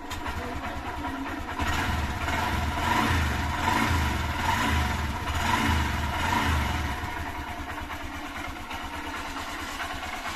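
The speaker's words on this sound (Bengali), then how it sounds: "ইঞ্জিনটা অন করবো।" A Honda Shine BS6 motorcycle engine starts after a fuel filter change and settles into a steady mid-pitched idle, close and fairly loud throughout, with no talking.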